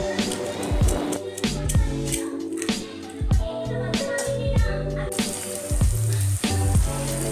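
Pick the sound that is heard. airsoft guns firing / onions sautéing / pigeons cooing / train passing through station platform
onions sautéing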